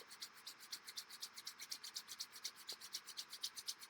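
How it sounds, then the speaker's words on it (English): Palms rub together vigorously in a quiet room during a yoga practice, a steady fast rhythm of soft, papery swishes repeating several times per second, faint and close. "feeling that friction in your hands, and let it build up, rubbing a little more vigorously"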